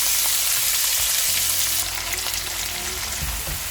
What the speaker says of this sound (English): I am going to add 2 finely chopped onions to this